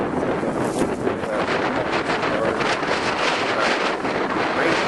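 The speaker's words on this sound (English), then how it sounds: "This is going to be real windy, so I'll stop." Strong wind gusting across a corn field in March, a loud, constant roar buffeting the microphone with no pauses for the whole stretch.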